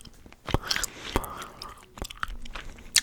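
Close, intimate gum chewing with moist clicks and smacks at an irregular pace, soft overall with a few sharper snaps, and no talking.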